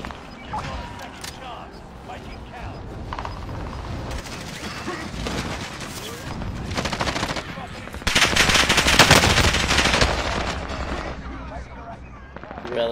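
Dense automatic gunfire and bursts from the video game Call of Duty: Warzone, heard continuously at moderate loudness with louder, thicker bursts in the later part.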